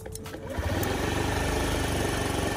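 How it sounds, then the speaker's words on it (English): A 2003 Honda Ruckus scooter that would not start, with its fuel pump running and the small engine catching, then settling into a loud, steady buzzing idle heard close up and without talking. "fuel pump pumping"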